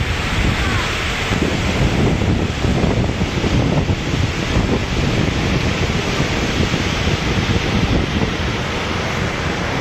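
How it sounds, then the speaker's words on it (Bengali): Strong wind and river water aboard a ferry crossing the Ganges between Bansberia and Halisahar, a loud continuous rushing wash of wind buffeting the microphone over water noise, unbroken for the whole stretch. "গঙ্গার হাওয়া অসাধারণ"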